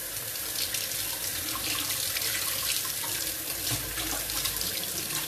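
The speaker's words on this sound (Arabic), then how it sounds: "انا باش نغسل الخضرة" Tap water runs steadily into a sink while vegetables are washed, a close, continuous splashing rush with faint clunks of handling underneath.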